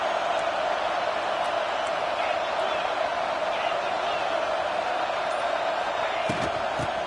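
Stadium crowd noise from a college football video game, NCAA 26, a steady broad roar of fans holding for several seconds with a faint swell near the end.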